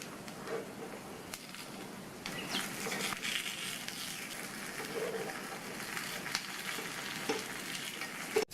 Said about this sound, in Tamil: எல்லா பணியாரத்தையும் பிரட்டி போட்டுட்டு சுற்றி மறுபடியும் கொஞ்சமாக எண்ணெய் விட்டுக்கோங்க